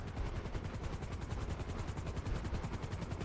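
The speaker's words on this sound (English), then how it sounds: "you need to just listen for the helicopter noise" A helicopter's rotor beats in a fast, steady chop, loud and close, thudding continuously with no voices, in the video game GTA Online.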